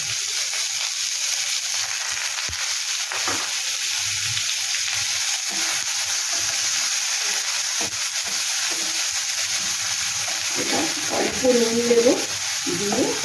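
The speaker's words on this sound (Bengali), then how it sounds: "পেঁয়াজটাকে ভাজবো ভালো করে" Chopped onion and ginger frying in a pan, a steady close sizzle with faint scraping and stirring, a brief voice rising under it near the end.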